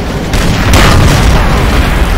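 A tank shell slams into armor in Call of Duty: World at War, bursting in a loud, close, heavy boom followed by a rumbling roar that fills the short moment.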